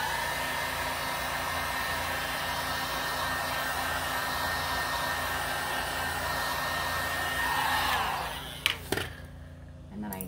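A hair dryer blows steadily on the painted surface of an end table, a loud continuous whoosh that cuts off near the end and is followed by a few handling knocks.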